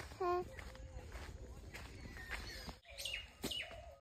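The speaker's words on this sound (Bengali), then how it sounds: "কত সুন্দর পাখির আওয়াজ," Birds chirp and call in a natural forest area: a clear burst of tweets near the start and a few more calls toward the end, heard through rustling outdoor background noise.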